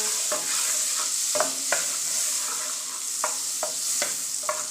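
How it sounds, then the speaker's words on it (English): Butter sizzles and melts in a pot for a Jamaican one-pot meal, a steady close hiss of frying punctuated by several faint clicks and stirring scrapes, with no voices. "Meantime the butter is melting, I'll be adding my seasoning."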